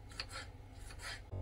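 A knife finely chopping a small tomato, heard as a few close, soft rasping slices in quick succession, ending in a faint knock.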